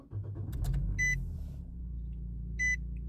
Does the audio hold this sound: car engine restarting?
yes